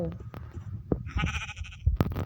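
Sheep bleat in the Minecraft video game, a wavering synthetic baa in the middle, framed by thumps and clicks of play.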